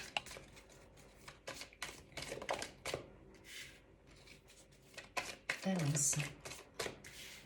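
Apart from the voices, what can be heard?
shuffling tarot cards for a reading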